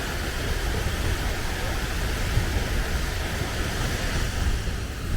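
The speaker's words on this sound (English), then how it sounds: "We're at the base of the waterfall." Rushing water at the base of a waterfall in Iceland, heard as a constant, loud, full-bodied roar. Wind buffets the microphone throughout, and there is no pause or change in level.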